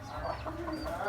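A two-year-old Thai fighting rooster clucks in short, close, repeated calls over a steady low background hum, with no talk.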